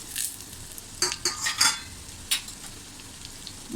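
Spices such as asafoetida, cinnamon pieces and black peppercorns tempering in a pan for Maharashtrian dahi kadhi, stirred with a utensil, with several sharp scrapes and clinks over a faint sizzle.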